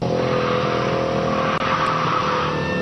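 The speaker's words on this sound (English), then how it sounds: "more of our guys on the little bitty Corvettes slipping and sliding" Small gold Corvette cars slipping and sliding in a Memorial Day parade, a loud continuous blend of revving engines and squealing tires that runs without a break, close by and with no speech over it.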